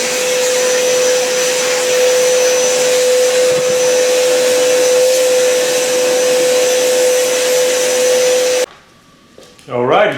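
Kalorik water filtration vacuum cleaner running, a loud steady motor roar with a constant tone that cuts off abruptly near the end, followed by a brief quiet moment and talk.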